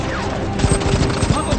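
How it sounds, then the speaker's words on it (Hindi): Rapid bursts of gunfire crackle through a busy, noisy scene, with shots clustering irregularly amid background commotion and muffled voices. "ये है L-26, हम पर गोलियां चल रही हैं।"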